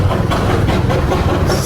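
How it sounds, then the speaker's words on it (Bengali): A Darjeeling toy train with a diesel engine passes close by on its narrow-gauge line, a loud, steady rumble with rattling and clatter throughout and no talk. "আমরা দুখানা টয় ট্রেন দেখলাম"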